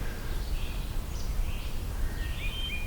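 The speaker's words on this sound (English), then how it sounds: "Very rapid sounding black-throated green warbler" A black-throated green warbler sings rapid, thin high phrases, heard several times at moderate distance over steady outdoor background noise.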